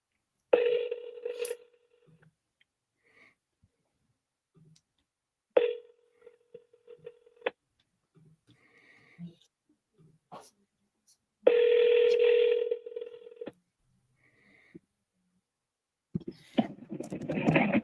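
Telephone dialing tones for cold calls, short bursts of beeps heard in several separate bursts with quiet gaps between them.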